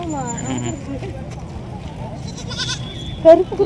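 Young goats at a farm bleat in short, wavering calls, one louder cry standing out near the end, mixed with people talking and general barnyard noise.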